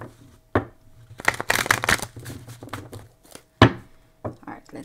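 Tarot cards being shuffled for a weekly astrology reading, several crisp riffled bursts of card flutter with sharp snaps between, close and fairly loud, with quiet talk in the background.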